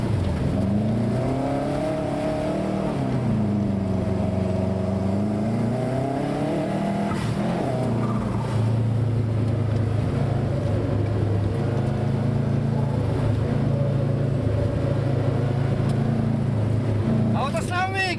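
A race car laps a training track, its engine droning loud and close with steady rises and falls in pitch as it accelerates and lifts, continuous throughout with a brief squeal near the end.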